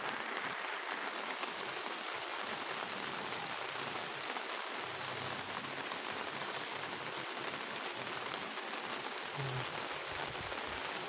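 Heavy rain pounds down on a house in a dense, unbroken hiss of drops striking the roof and ground, steady and loud from beginning to end, with no voices.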